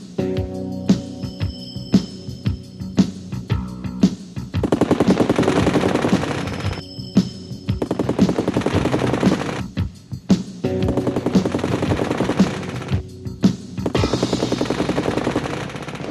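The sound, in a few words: F-86 Sabre machine guns firing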